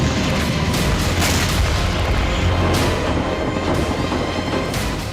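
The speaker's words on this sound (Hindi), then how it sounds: "टूटी हुई इमारतों से अचानक रॉकेट प्रहार" Rocket strikes explode among ruined buildings in a war zone, giving a loud, continuous barrage of heavy booms and blasts with no pauses.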